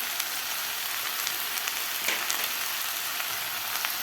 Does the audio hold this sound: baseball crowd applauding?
no